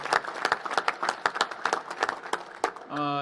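An audience at a National Space Council event in a large museum hall claps in a sparse, uneven round of applause, with separate hand claps standing out before a voice begins at the end.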